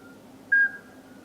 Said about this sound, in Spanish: Silbido del sapo partero, el sonido más simple que existe en la naturaleza ibérica